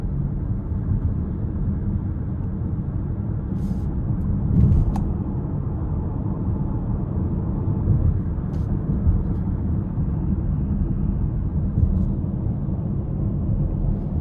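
A 2026 Chrysler Pacifica Limited minivan accelerating hard in tight traffic, a steady loud low engine and road rumble from inside the cabin, with a faint swell partway through and no talking.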